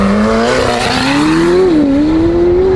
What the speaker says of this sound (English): Standing start with me in the McLaren going first